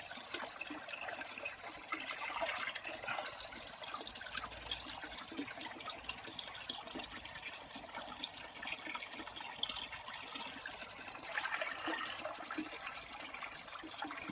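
Water sprays to wash out the spray bar of a koi fry tank outdoors, a soft continuous hiss and splatter that holds steady and fairly quiet throughout.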